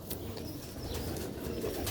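Sialkoti silver pigeon chicks coo softly and steadily, close by and fairly quiet, over a low, even background hum.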